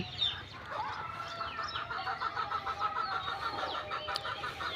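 Chickens cluck and chirp at a poultry farm, with many overlapping calls at a steady, busy level and a low background rumble throughout.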